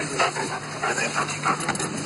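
A police dog at a night-time drug raid on nightclubs in Poprad, Slovakia, panting and snuffling close by under a steady wash of crowd and background noise.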